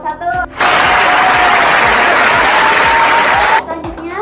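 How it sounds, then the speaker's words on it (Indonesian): A classroom of students bursts into loud, dense applause for a presenting student group, about three seconds of steady clapping framed by brief talk before and after. "tepuk tangan untuk kelompok 1"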